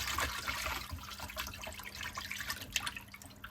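Tap water runs softly and unevenly as fresh fish is rinsed in a sink, with a low hum and a few faint drips and splashes and no talk.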